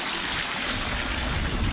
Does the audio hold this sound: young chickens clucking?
no